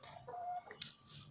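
Backyard chickens give a few soft, close clucks and short calls in a quiet setting, with one brief sharper click.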